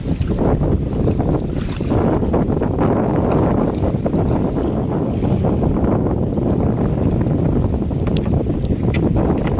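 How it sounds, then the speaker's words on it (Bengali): Stormy wind blows hard over a river in the Sundarbans mangrove forest, a loud, unbroken roar buffeting the microphone throughout with no voices. "নদীতে ভীষণ তুফন হচ্ছে আপনারা কিন্তু দেখেই বুঝতে পারছেন"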